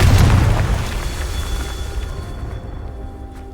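The Confringo fire spell explodes in Hogwarts Legacy, a loud booming blast with a deep low rumble that slowly decays over a few seconds.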